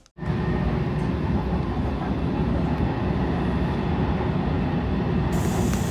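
Interior rumble of a moving passenger train in Taiwan, a steady, loud low roar of wheels and carriage running without a break from start to finish.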